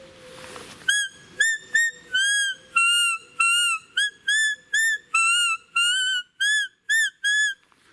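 A Belblatt roe deer call is played hands-free, held in the teeth. It gives a quick run of about a dozen short, high, whistling squeaks in an even rhythm, loud and close, after a brief low hum at the start.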